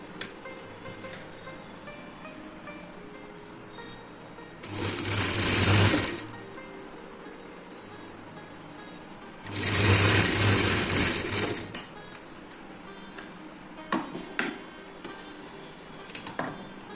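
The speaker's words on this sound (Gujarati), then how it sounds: "અહીંયા સિલાઈ કરી લેશું" A sewing machine stitches a folded one-inch fabric strip on a handmade shopping bag, running in two loud, steady whirring bursts of about a second and two seconds, separated by quieter handling clicks and rustles.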